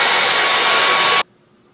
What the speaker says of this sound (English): The new blow dryer is smoking.